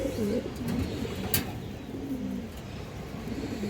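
Pigeons at a loft, including a lively female Giribaz-type bird, cooing in low repeated throaty phrases close by, with a brief sharp click partway through.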